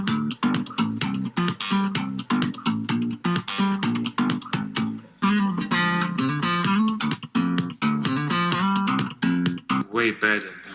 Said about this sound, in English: I bet they don't know acoustic basses exist and they sound like this.